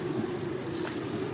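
Water poured into a separate vessel holding 100 grams of jaggery to make a solution, a steady close-up wash of liquid running without pause and with no voices.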